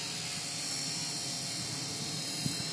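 A radio-controlled collective pitch helicopter flies outdoors, its rotor and motor making a steady, moderately loud whining buzz that holds evenly throughout.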